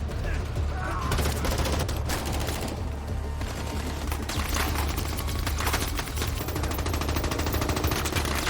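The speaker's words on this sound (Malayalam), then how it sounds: "ഷൂട്ടൌട്ടിനിടയിൽ ജോങ്ങിന്റെ നെഞ്ചിൽ വെടിയേൽക്കുകയാണ്." Dense automatic gunfire rattles almost without a break through a shootout in a Jackie Chan action film, loud and sustained with brief lulls and mixed with other scene sounds.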